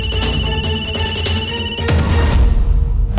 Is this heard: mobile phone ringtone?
yes